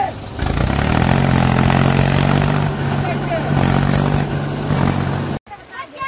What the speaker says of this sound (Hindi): अभी हमारा ट्रैक्टर देख रहे हो पूरा फंस चुका है